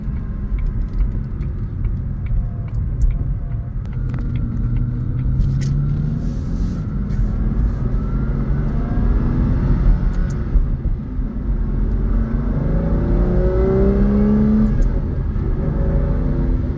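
A 2003 Aston Martin Vanquish with a V12 engine drives along, its deep engine rumble steady and close throughout, with gentle rises in revs as it accelerates through gears.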